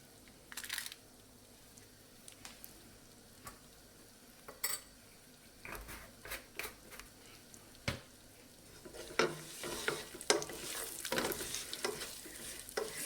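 A spoon stirs spices into a dry oats and cornflakes snack mixture, with scattered close scrapes and clinks that grow busier and more continuous toward the end.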